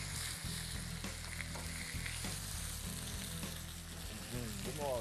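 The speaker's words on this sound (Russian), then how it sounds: "Слышите, как скворчит масло?" Small pieces of food sizzle and crackle in hot oil in a frying pan, a steady close spitting hiss with sharp pops, and a brief scrape of stirring near the end.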